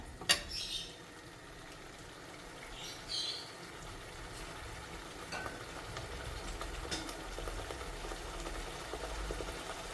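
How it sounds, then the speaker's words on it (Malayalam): Fish tikka masala being stirred in a pan, with a few faint scrapes and clinks of a utensil against the metal over a low, steady background hiss of cooking, no talking. "അതുവരെ നമുക്ക് കുറച്ചുകൂടെ ഒന്ന് ഇളക്കി കൊടുക്കാം"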